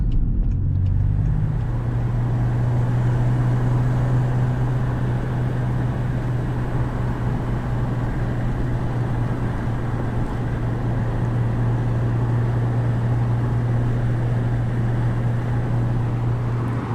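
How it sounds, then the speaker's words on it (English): Steady, loud interior road noise from a Mk4 1.9 TDI wagon at highway speed, a constant low engine drone and tire rumble with no talking. "highway driving, it's quite loud"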